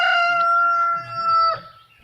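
A rooster in a backyard flock crows once, a strong, clear, drawn-out call close by, with faint low clucking from chickens underneath and a brief softer cluck as the crow trails off.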